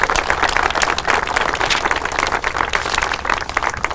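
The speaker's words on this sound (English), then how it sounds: "let's give Jewel a big round of applause" A crowd at an Albuquerque city news conference gives a round of applause, thick continuous clapping from many hands, close and loud, sustained evenly across the whole stretch.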